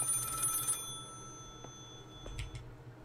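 An old telephone rings inside the horror video game Maid of Sker, a bright metallic bell trill that sounds once and then stops, followed by faint clicks and knocks over a low ambient drone.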